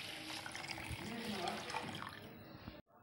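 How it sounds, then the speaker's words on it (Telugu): Water from a glass poured over washed rice set to soak in a bowl, a close splashing trickle that runs steadily for nearly three seconds before cutting off abruptly. "ఇప్పుడు దాంట్లో 1 గ్లాస్ వరకు వాటర్ పోసుకోవాలి।"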